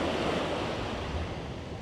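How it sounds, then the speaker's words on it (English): Steady wind blows across a beach on Harris in the Outer Hebrides, a broad continuous rushing roar mixed with surf and buffeting the microphone, with no voices. "Now it's a little tiny bit windy today"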